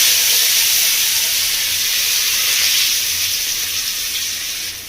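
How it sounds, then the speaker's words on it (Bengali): Chopped garlic dropped into hot oil, a loud continuous hiss and sizzle that fills the clip close up and fades slightly toward the end, with no talking. "এবার দিয়ে দেবো খেতে করে রাখা রসুনের কুচি।"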